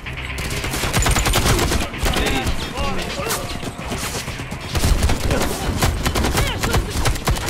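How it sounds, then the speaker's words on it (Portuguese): Machine gun fire in the shooter game Warface comes in dense rapid bursts of sharp cracks, loud and near, with a short break then more fire, voices faintly under it. "Metralhadora, vou morrer."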